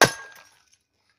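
A glass container is smashed open, a treasure-hunting find with money stored inside; one sharp, loud crash of breaking glass, followed by a short tinkling decay of shards that fades within about half a second.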